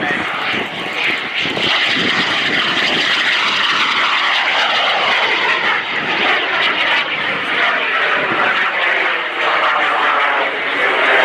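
Small kit-built airplane roaring loud and close overhead at the MCAS Cherry Point air show, a steady engine tone that holds for the whole pass.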